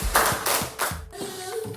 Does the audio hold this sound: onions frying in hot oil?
no